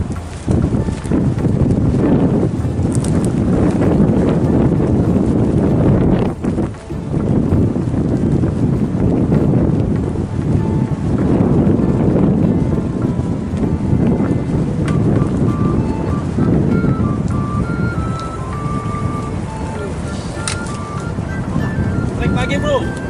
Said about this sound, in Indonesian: walaupun ya angin gede